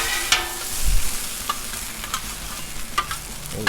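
Oil, butter and garlic frying on a Blackstone griddle, a close, steady sizzle broken by sharp scrapes and taps of a metal spatula stirring the food.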